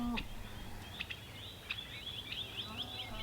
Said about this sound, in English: Birds singing constantly.